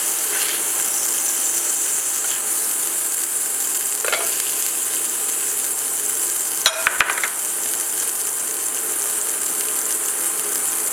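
Onions sauteing in rendered fat in a pan give a steady, close sizzle and hiss throughout, with a brief scrape or clatter of stirring partway through.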